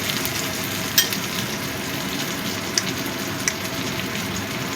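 Onions frying in a pan for a mung dal with fish head, a steady close sizzle with a few faint clinks and no talk.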